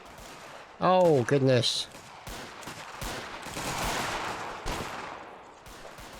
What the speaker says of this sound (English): there's some shotguns going in there. Or equivalent of a blunderbuss